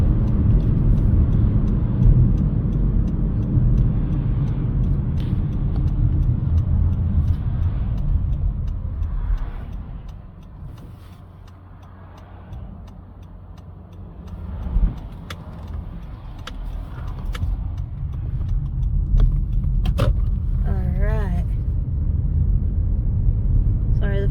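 Road traffic near the Bolsa Chica Wetland rumbles past in a continuous low roar, easing midway before swelling again, with a brief squeal and scattered clicks near the end.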